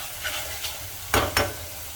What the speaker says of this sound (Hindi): तो इसे भून लेते हैं टमाटर के साथ 1 मिनट के लिए